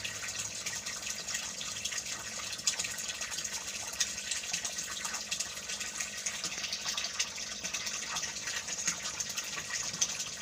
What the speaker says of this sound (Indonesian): Aduk sampai merata.